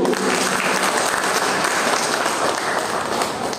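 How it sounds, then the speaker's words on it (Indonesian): A seminar audience breaks into loud, sustained applause, many hands clapping in a thick continuous wash from start to finish with no talk over it. "Tepuk tangan Bapak Ibu."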